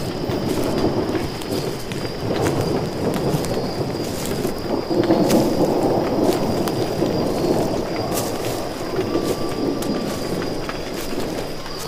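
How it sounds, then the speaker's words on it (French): A thunderstorm rumbles on with a continuous low roar of thunder and steady rain, scattered crackling snaps cutting through, and faint bird calls in the background. "On entend les orages crépiter"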